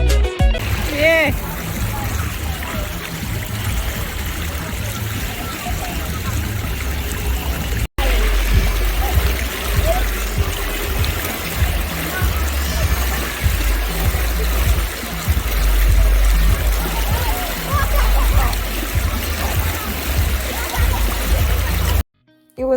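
River water at Reggae Falls in St Thomas rushes and splashes continuously, a broad noisy flow heard close by, with people's voices and wind noise mixed in and a brief dropout partway through.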